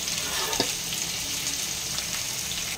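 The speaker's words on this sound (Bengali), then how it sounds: "এবারে এটা ভাজা হোক, এইদিকে এটা ভাজা হোক আর এইদিকে চাল ডাল সিদ্ধ হচ্ছে" Chopped onions fry in oil in a pan during khichuri cooking, producing a dense, even sizzle close up, with one faint tap of a utensil early on.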